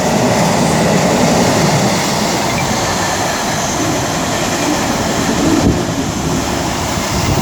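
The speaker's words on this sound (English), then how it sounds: "speaking of freight, there we go. 66128 for DB Cargo UK." A DB Cargo UK class 66 diesel freight train rolls past at Tamworth on the West Coast Main Line, a loud, steady rumble of wagons lasting throughout with a faint clatter, close by and without speech.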